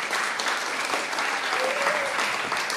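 A church youth audience cheers and applauds steadily throughout, a dense wash of clapping and voices with no break.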